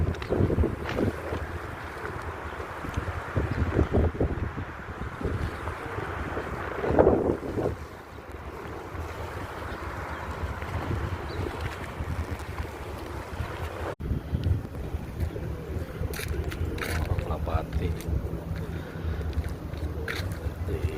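Steady wind blowing and buffeting the microphone, a continuous rushing roar with gusts, over an open-water background in Bahrain.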